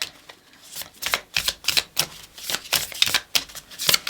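Oracle cards are shuffled by hand in a quick series of crisp, papery riffles and flicks, close and fairly loud, with no talking.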